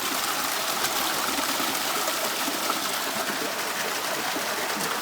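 Warm spring water flows steadily near the Dead Sea, making a dense, continuous rushing and trickling sound up close with no talk.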